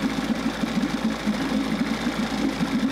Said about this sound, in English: It's actually idling really good too.